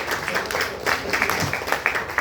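Reception crowd at Friendship Park in Apia, Samoa, claps in an uneven, moderately loud burst with scattered individual hand claps standing out over the general patter, no voices breaking through.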